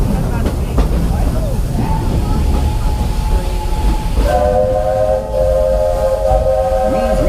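Rumbling train noise with a steady drone, then a loud multi-tone steam whistle blowing over the continuous rolling sound, with some voices in the background, aboard the Walt Disney World Railroad.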